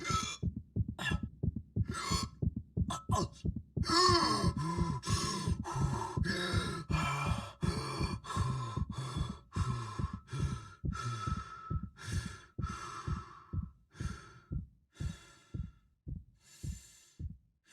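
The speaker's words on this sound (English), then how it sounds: "you can expect to hear Isaac catch his breath as he recovers from a lack of oxygen" Heavy, labored breathing from the armored engineer Isaac in the survival horror game Dead Space, recovering from oxygen loss, gasps slowing into a steady rhythm over a pounding heartbeat, close and alone, gradually settling back into calm breathing.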